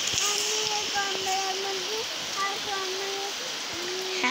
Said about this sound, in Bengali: আপনারা সবাই দেখুন অনেক বৃষ্টি